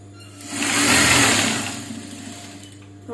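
A normal tailoring sewing machine stitching a blouse runs in one smooth whirring burst that swells, holds about a second and fades, close and fairly loud over a steady low hum.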